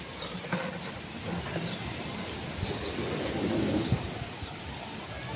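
Rain falls by the sea with low thunder rumbling, a soft wash of noise with occasional faint bird calls and brief thumps, fairly quiet overall.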